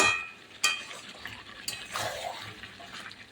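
Bengali country chicken curry being stirred in a pan as its liquid cooks down, a quiet wet scraping and shuffling with a couple of sharp spoon knocks against the pan.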